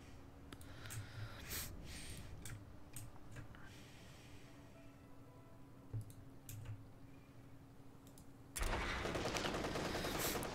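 Machine gun fire in the World War II strategy game Company of Heroes 3, scattered short bursts at moderate distance over a low hum, ending in a louder sustained burst.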